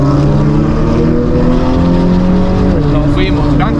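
A sports car engine roars loudly along a street road course during a street race in Colombia, with cars such as a Porsche Boxster S, BMW M3 and Mini Cooper GP, holding a sustained, close revving drone.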